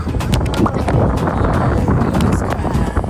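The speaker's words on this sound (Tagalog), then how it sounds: "malakas naman yung hangin eh" Strong wind buffets the microphone outdoors on a road trip, a steady loud roar with gusty rumble throughout, no voices.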